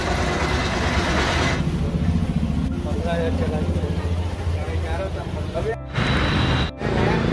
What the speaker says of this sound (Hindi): मेरा जो है इंजन का साउंड सुनने को मिल रहा है